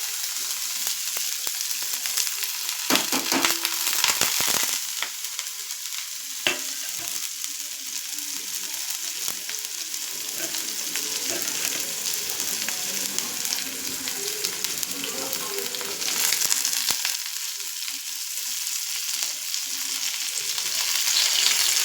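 Ginger, garlic and fresh curry leaves fry in hot oil for a chilli pickle, giving a steady close sizzle and crackle throughout, with occasional stirring scrapes and brief louder bursts.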